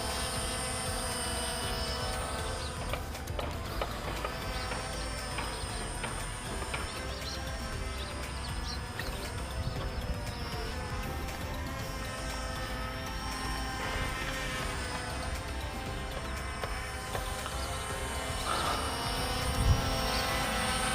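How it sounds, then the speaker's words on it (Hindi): J6 Pro camera drone flying after take-off, its propellers giving a steady high-pitched whine that holds throughout, with faint birdsong and no talking. "अपना जो ड्रोन है गाइस टेक ऑफ कर चुका है।"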